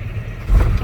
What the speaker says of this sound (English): So now I'm going to turn the truck on to build my air pressure up to the governor cutout